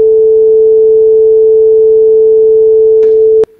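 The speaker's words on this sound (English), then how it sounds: "So that's kind of that's called a sine wave." A pure sine wave tone holds one steady, loud pitch for more than three seconds and then stops abruptly with a brief click.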